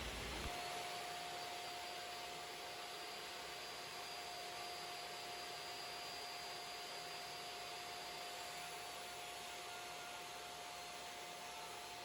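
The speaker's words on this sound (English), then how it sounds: "I got my dust collector hooked up to my table saw and plugged it in." A mobile dust collector hooked to a table saw in a small shop runs with a steady, loud whooshing roar and a faint constant whine, unbroken for the whole stretch, with no talking.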